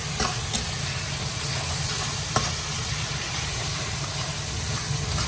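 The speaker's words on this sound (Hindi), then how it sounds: "अब हम इसको करेंगे अच्छे से मिक्स।" Food fries in a pan while being stirred and mixed, giving a steady close sizzle and hiss with a couple of faint scraping clicks.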